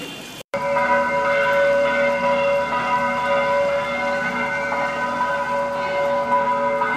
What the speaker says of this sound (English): The bells are tolling.